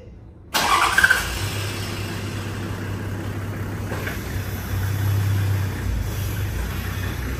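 A car engine cranks and catches, then settles into a steady low idle that rises slightly partway through.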